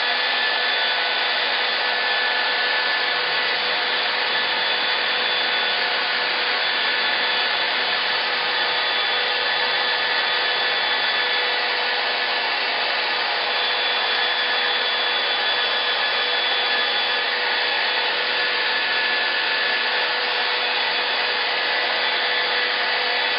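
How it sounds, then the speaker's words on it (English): A hair dryer blows steadily on a snowy gnome craft, a loud, unbroken whoosh of air with no pauses or talk for the whole stretch. "now I am going to take my hair dryer again and I'm going to dry this up"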